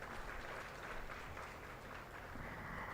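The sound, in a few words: audience applause for young prize winners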